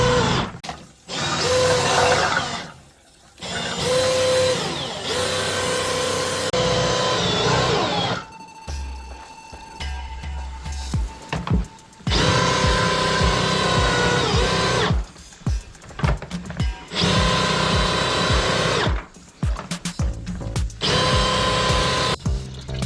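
A drain cleaning machine grinds grease inside a clogged kitchen sink drain, its loud whirring and rattling coming in repeated bursts broken by short pauses.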